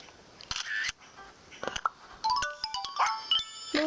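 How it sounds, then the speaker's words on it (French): Camera snapping a photo in the Nintendogs+Cats video game: a shutter click followed by bright chiming electronic tones and little jingles, clean and close, with no voice. "Donc on va prendre une belle photo."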